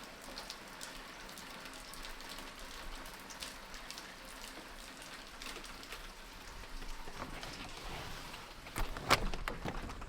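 Steady rain falls outdoors on an early morning run, a soft continuous hiss of drops on surfaces that grows a little louder and busier near the end.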